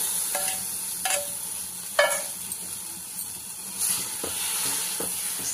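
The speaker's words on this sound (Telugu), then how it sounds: "సేమియా వేసుకొని మిక్స్ చేసుకోవాలి." A spoon stirs fried vermicelli into boiled sago for payasam in a pot, giving a soft continuous sizzle and hiss broken by several sharp scraping clinks.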